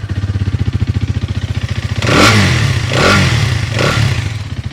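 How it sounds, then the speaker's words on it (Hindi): A Hero Xtreme 250R motorcycle idles with a steady, rapid engine-and-exhaust pulse, then revs up loudly three times, each rise falling back toward idle, with a faint mechanical knocking from the engine. "अब मैं वहीं पे अगर आपको हीरो एक्सट्रीम की आवाज़ सुनाऊं"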